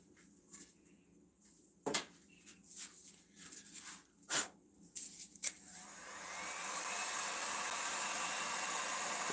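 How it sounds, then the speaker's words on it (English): A heat gun turned all the way up blows a steady, loud roaring hiss as it chars wood, starting about halfway through after a series of sharp knocks and handling sounds. "I'm going to try to use my heat gun and turn it all the way up and see if it will char the wood"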